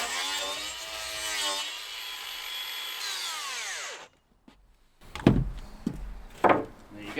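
An angle grinder cuts through a wooden roof batten during a barn roofing build, a loud sustained high whine that winds down and stops around four seconds, followed by silence and then a few knocks and handling thuds.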